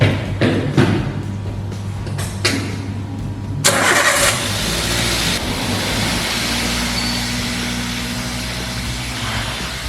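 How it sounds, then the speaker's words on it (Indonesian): An EFI car engine is cranked during a tune-up procedure: a few short starter bursts, then it catches with a loud roar and settles into a steady, close idle hum. "Izin men-start mesin."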